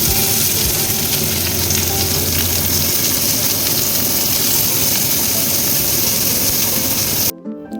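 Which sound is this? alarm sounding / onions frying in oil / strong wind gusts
onions frying in oil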